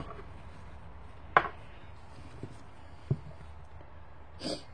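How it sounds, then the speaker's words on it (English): A knife chops fresh berries on a cutting board in a home kitchen, giving a few sparse, separate knocks against a quiet background. "I am going to start chopping these beautiful berries up"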